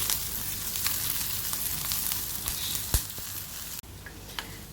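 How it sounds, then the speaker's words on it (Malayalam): Garlic, green chili and onion fry in hot oil, giving a steady, close hiss and crackle that runs almost without break, with a few small pops and stirring knocks near the end. "ഇവിടെ ഈ വെളുത്തുള്ളിയും പച്ചമുളക് ഉള്ളിയൊക്കെ നന്നായി മൂത്തിട്ടുണ്ട്."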